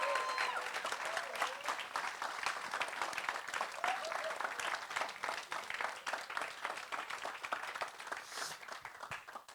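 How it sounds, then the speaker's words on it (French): Clapping from a church audience at a Saturday evening service, many hands beating in loose, slightly rhythmic bursts, fairly quiet and distant, with murmurs of voices mixed in and a gradual fade toward the end. "Est-ce qu'on peut faire un tonnerre d'applaudissements?"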